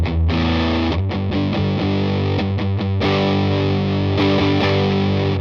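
Robin Finck signature electric guitar on the neck pickup with distortion, thick sustained chords and strummed notes ringing continuously and loud throughout, with no talking.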